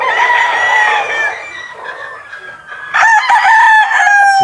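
Roosters crow loudly and close by, with long drawn-out calls, one fading out and then another strong crow after a short lull, and soft clucking in between, heard without any voices.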